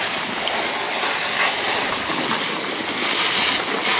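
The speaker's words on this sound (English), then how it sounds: "it says to hose it down really good" A steady broadband hiss of water spraying from a hose onto a shop door awning, constant and fairly loud throughout, with a faint splattering texture and no voices.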